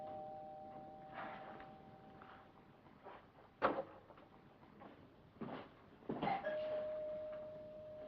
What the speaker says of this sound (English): You like them chimes, don't you, huh?